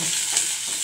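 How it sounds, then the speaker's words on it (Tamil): Green chillies and curry leaves temper in hot oil with onion: a brief, even, close hiss of sizzling. "பச்சை மிளகாய், கருவேப்பிலை போட்டு தாளிச்சு மாட்டோம்."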